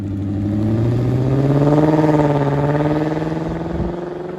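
A VW Passat W8 engine revs up smoothly from idle, its loud, steady mid-pitched hum rising and then easing back down, heard close and alone.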